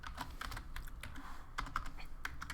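Rapid, quiet typing of code on a computer keyboard, with steady key clicks at an uneven rhythm and no voices.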